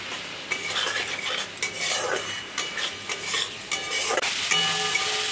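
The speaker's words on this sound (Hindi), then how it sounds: "मसलाटा भालो करे कषिये निच्छि।" Spatula stirring and scraping a masala spice paste as it sizzles in a pan for a vegetarian curry, a dense, continuous close-up frying hiss with repeated scraping strokes and no voices.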